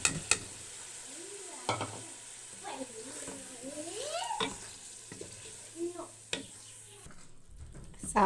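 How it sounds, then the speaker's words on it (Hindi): Washed red lentils tipped into sizzling fried masala in a pot and stirred, with scraping spoon strokes and soft frying crackle through the clip, sharp clatters at moments, and a voice speaking in the background. "इसके अंदर की दाल जो हमने धोई थी इसको हम शामिल करते हैं।"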